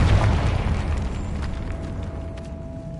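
Confringo blasting spell explosion in a Harry Potter video game, blowing through a barricaded archway: a heavy boom at the start that decays into a long rumbling tail with scattered debris crackle.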